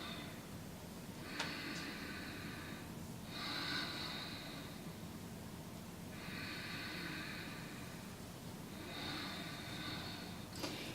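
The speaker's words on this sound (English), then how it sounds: "Nice deep inhalations, soft and complete exhalations." Quiet, slow breathing during a yoga exercise, with about four soft, airy breaths at an unhurried rhythm, faint and close against a hushed background.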